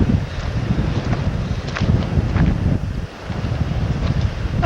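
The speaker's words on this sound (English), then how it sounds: "This is a humdinger of a wind to be pushing a big kayak in." Strong wind buffets the microphone while a big kayak is paddled along a coast off Andros, making a loud, continuous gusty roar with faint water sounds underneath.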